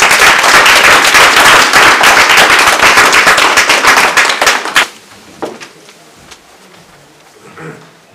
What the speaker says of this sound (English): put your hands together with a very loud round of applause